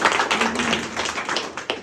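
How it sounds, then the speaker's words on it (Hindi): A room of attendees at a product results meeting in Pedapally claps together in a short, brisk burst, with quick overlapping hand claps and a faint voice underneath. "एक बार जोरदार तालियों।"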